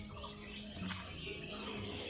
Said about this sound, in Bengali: এই যে এইটার মধ্যে এই পাখিগুলো স্নান করে গেল